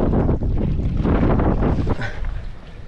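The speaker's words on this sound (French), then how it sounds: "en plus il y a du vent" Strong gusts of wind buffet the microphone, a loud rumbling roar that swells and eases over a few seconds.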